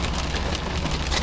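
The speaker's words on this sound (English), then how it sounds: "so it's a rainy day. I don't know how much that's going to affect the sound of the video" Rain falls outside on a rainy day as a dense, continuous hiss with a low rumble beneath, loud and unbroken throughout the short stretch.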